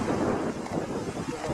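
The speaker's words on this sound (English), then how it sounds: "Really windy." Strong outdoor wind buffets the microphone with a close, continuous low rumble and fluttering gusts that rise and fall without pause.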